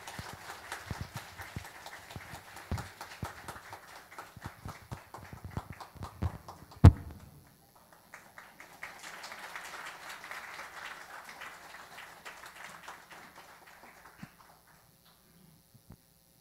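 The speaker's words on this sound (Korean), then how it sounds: "박수 한번 좀 보내주시기 바랍니다." Applause from a church congregation during a Sunday worship service after an infant baptism, a dense patter of clapping that rises, breaks off sharply with a thump, then resumes more softly and fades away.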